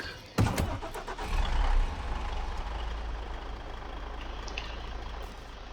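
A truck engine starting in the SnowRunner video game, with a sharp mechanical clunk followed by a low, steady diesel rumble that swells briefly and then settles into idle.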